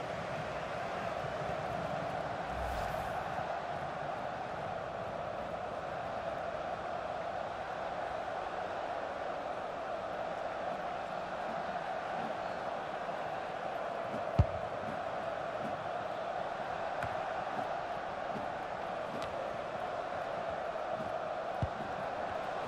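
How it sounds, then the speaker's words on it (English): A FIFA 19 video game stadium crowd at an MLS match between Chicago Fire and Real Salt Lake keeps up a steady, dense roar of jeering, constant and fairly distant, with a faint thump partway through and no clear speech. "Head in hands, getting some stick off the crowd there."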